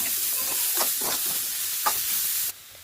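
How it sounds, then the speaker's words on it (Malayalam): Chopped green chilli, garlic and coconut pieces sizzle in hot coconut oil with popped mustard seeds, a loud, steady close hiss with a few crackles and stirring sounds, cutting off abruptly near the end. "കടുക് പൊട്ടി വന്ന സമയത്ത് ഇതിലേക്ക് അരിഞ്ഞു വെച്ച പച്ചമുളകും വെളുത്തുള്ളിയും"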